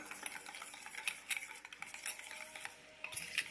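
A utensil stirs omelette egg mixture seasoned with pepper powder in a bowl, giving quiet, quick clinks and scrapes in an uneven rhythm, close and soft.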